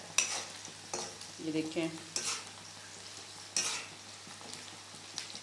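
Cumin seeds fry for a kadhi tempering with a hissing sizzle and repeated stirring knocks of a spoon against the pan. A brief spoken remark sounds over the sizzle partway through.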